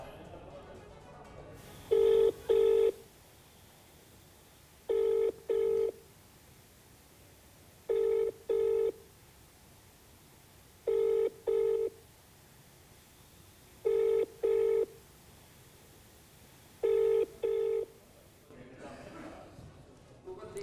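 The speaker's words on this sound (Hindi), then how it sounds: "वहीं चंद्रिकापुरे मनोहर गोवर्धन, उनको भी फोन लगाया गया।" Repeated telephone ringing tones from a call being placed, six evenly spaced double rings over a steady low hiss, with no one speaking during the rings.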